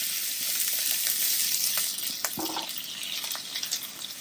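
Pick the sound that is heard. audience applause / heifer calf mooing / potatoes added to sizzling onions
potatoes added to sizzling onions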